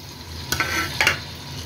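Onions sizzle in half a cup of hot oil in a pot, frying steadily while a utensil stirs through them twice, scraping against the pan over the constant crackle, with no talk.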